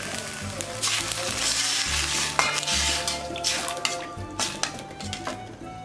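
Vegetables and spring onion stir-fried in a pan, a steady close sizzle and frying hiss with scraping stirs and light clinks of utensil against pan throughout.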